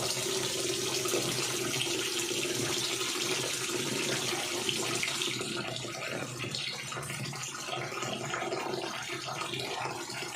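Rice for pares being washed under a running kitchen tap: a steady, continuous splash of water into a pot or bowl, close and even throughout, with grains being swirled in the water.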